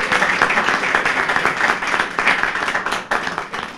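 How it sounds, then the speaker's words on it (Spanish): An audience at a Chilean Libertarian Party seminar breaks into strong applause, a dense, even clatter of many hands that holds steady at close range, with no talking over it. "así que también les pido un fuerte aplauso"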